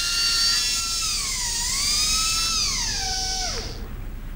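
A high-speed dentist's drill whines loudly and close, its pitch sagging and rising a little before spinning down abruptly near the end.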